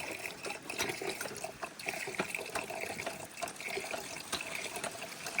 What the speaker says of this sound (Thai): ผู้น้อยนี่สูบน้ำเองอีกเก่ง